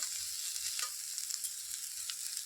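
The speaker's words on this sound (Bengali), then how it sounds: "সয়াবিনটা দেখো লাল লাল হয়ে ভাজি হয়ে গেছে একদম" Soybean chunks sizzle in hot oil in a pan, a continuous close crackling fry with no voices.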